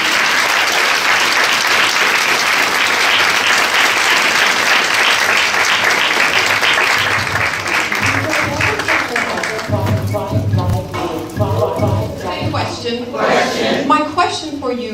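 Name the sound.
audience applause as speaker walks to stage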